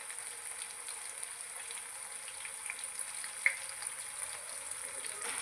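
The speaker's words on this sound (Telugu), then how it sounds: "మన చికెన్ ఎంత బాగా డీప్ ఫ్రై అయిందో" Chicken deep frying in hot oil, a faint, even hiss of fine crackling bubbles running steadily throughout, with one small sharp pop partway through.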